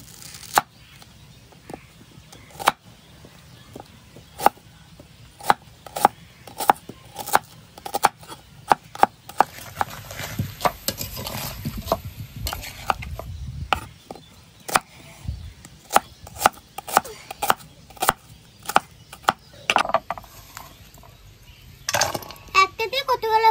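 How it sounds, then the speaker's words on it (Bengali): Onions being chopped with a knife on a board for a chicken dish, a long run of sharp, irregular close-up chops with some quicker bursts, under a faint background voice and soft clinks. "এবার আমি পেঁয়াজগুলো কেটে নিই"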